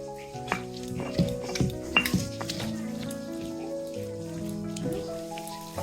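Cauliflower stalks frying gently in a pan, a soft sizzle with scattered clinks and scrapes of a utensil stirring against the metal, fairly quiet and close.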